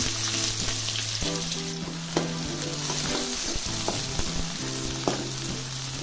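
Onions frying in oil with mustard seeds and cumin for a raw jackfruit dry curry, a loud, steady close sizzle with stirring scrapes and a few brief knocks, continuous for several seconds with no voices.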